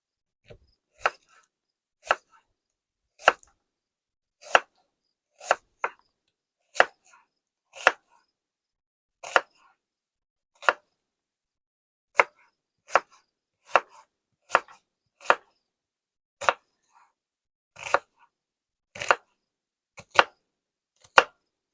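Sharp, isolated knife chops through a big onion into large chunks on a cutting board, each crisp strike spaced about a second apart, close and clear with silence between.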